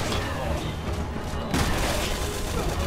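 Shotgun blasts in the Resident Evil 6 video game, dense and booming amid continuous gunfire and combat noise, with a heavier burst about halfway through, and players talking over it.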